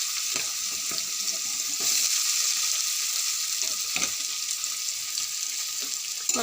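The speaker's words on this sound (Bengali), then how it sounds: "এবার পেঁয়াজটা ভালো করে ভেজে নেব, হালকা আঁচে পেঁয়াজটা এবার লাল করে ভেজে নেব।" Raw onion frying in hot oil with cumin, a loud, steady sizzle with occasional stirring scrapes.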